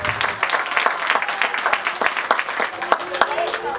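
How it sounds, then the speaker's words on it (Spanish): Enthusiastic applause from participants at a children's theatre workshop, steady crisp clapping throughout, close and lively. "les vamos a dar un fuerte aplauso"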